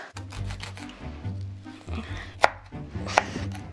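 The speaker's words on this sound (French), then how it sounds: "On a coupé un peu nos oignons." Onions chopped on a board, a run of close knife thuds with two sharper hard knocks near the end, and a voice briefly heard alongside.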